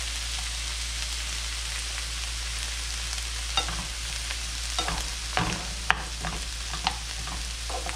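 Diced vegetables saute in neutral oil in a pan, giving a soft, even sizzle under a low steady hum. Occasional spatula scrapes and a sharp tap break through, close but fairly quiet, with no speech.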